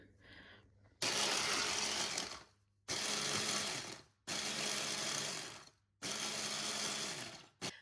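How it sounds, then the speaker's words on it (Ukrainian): A blender grinding sponge cake edges whirs loudly in four bursts of a couple of seconds each, with short pauses between them, like pulsed blending. "Краєчки бісквіта хочу подрібнити в блендері"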